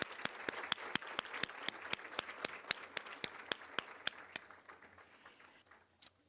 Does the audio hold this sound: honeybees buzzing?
no